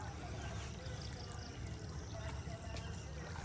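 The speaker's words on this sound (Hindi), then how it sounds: "देखियौ पानि बहि रहल छै ई वेस्ट पानि छै" Water flowing and pouring into a flooded rice paddy field during monsoon rain and transplanting, a steady close rushing trickle that continues throughout with a voice talking over it.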